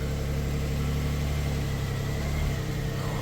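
A Smart car fitted with snow tracks runs with a steady, close engine drone and low rumble, creeping forward for a moment with no voices.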